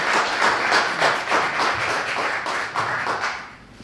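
Audience applause in a lecture hall, a steady patter of many hands clapping together for a few seconds before fading out, with no voices over it.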